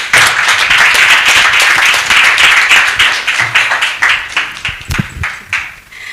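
A conference audience at an opening ceremony gives loud, dense applause that fills the room, many hands clapping steadily before thinning into scattered, uneven claps toward the end.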